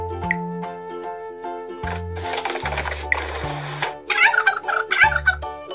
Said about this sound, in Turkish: Bu neydi? Bu. Hindi.